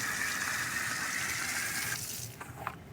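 Water gushing steadily from a tap fed by an electric water pump, a loud continuous rush that thins and sputters out near the end.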